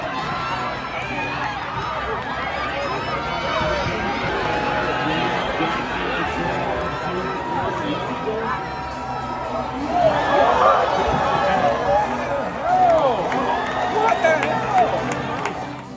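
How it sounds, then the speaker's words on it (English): A large stadium crowd at a track and field meet roars and chatters continuously, with a surge of louder cheering near the end, and a commentator's voice runs over it. "The crowd's reaction speaks for itself."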